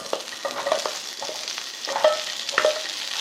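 Cucumber stir-fries in a preheated pan with a spoonful of cooking oil over high heat, a close, light sizzle broken by several quick scraping stirs spaced through the moment.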